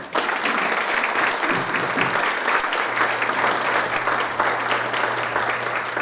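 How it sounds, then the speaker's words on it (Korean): Guests at a company ceremony marking Shinhan Fund Partners' name change and office move give a warm round of applause, a continuous, even wash of many hands clapping that holds throughout, with a low hum entering partway through. "여러분들 다시 한번 뜨거운 박수 부탁드립니다"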